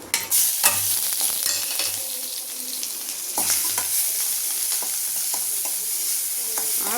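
Constant hot-oil sizzling with occasional stirring scrapes, close and fairly loud, as spices fry in a pan for tempering rasam, with curry leaves and flowers added.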